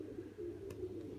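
A black crested pigeon coos quietly in a loft, a soft low murmur running steadily through the clip with a brief higher rustle midway.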